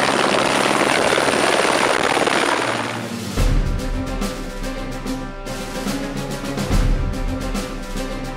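The Águia 4 police helicopter flies over the Serra region near Lages. A loud, broad rush gives way to a steady, close rotor beat with a rhythmic thudding chop, and no one talks.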